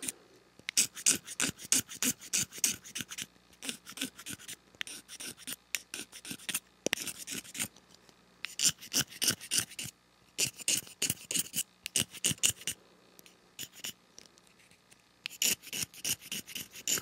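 A reed's channels are scraped by hand to tune its peep rattle: quick rasping strokes in short rhythmic bursts, separated by brief silent pauses, close and fairly quiet.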